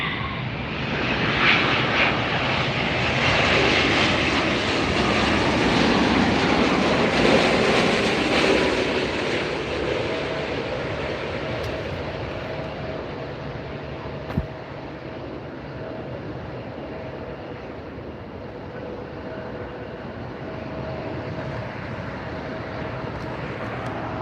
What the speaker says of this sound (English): we got Ida up and away, and the Dreamliner right there